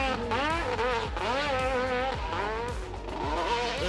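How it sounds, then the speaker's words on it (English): A 1000cc two-stroke motorcycle climbing a steep hill, its engine screaming at high revs with rapid rising and falling pitch sweeps as the throttle is worked, loud and sustained throughout. "Listen to that big two-stroke sing."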